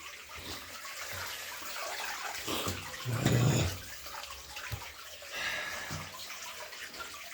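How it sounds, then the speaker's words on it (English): Water gushes and splashes back out of a well pressure tank during a plumbing failure, a steady rushing flow with a louder surge midway, heard close up. "And that's all the water coming back from the pressure tank"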